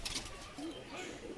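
Desi Giribaj pigeons from Murshidabad give soft, low coos near at hand, a short wavering call rising over faint background rustle.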